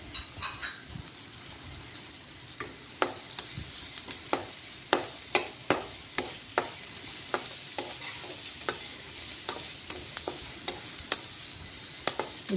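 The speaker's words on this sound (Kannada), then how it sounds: "ಶುಂಠಿ ಬೆಳ್ಳುಳ್ಳಿ ಹಾಕಿ ಚೆನ್ನಾಗಿ ಫ್ರೈ ಮಾಡಿ" Ginger and garlic fry for a mushroom gravy under a steady sizzle, punctuated by regular sharp clicks of a spatula striking the pan every half second or so.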